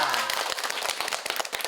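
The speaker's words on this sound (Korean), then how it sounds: "박수 고맙습니다." Students applaud in a high school classroom at Onyang Hanol High School after a pastor's lecture, with brisk, dense clapping that fades into scattered claps. A voice briefly overlaps the start.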